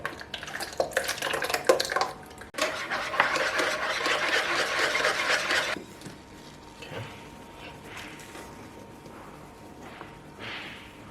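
Flour, spices, butter solids and milk stirred into chapati dough with a mwiko, wooden spoon, giving wet rhythmic squelching and knocking, busy for about six seconds, then fading to quieter intermittent mixing.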